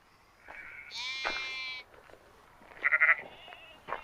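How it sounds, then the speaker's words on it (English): Sheep in a large flock of a few hundred bleat in the open, several overlapping calls rising and falling at moderate distance, with a sharper, louder bleat near the end and no talk. "there's lots of sheep. I think there's maybe like 200 or 300."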